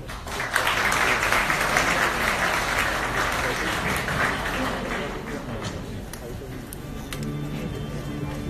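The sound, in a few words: audience applause at a fashion show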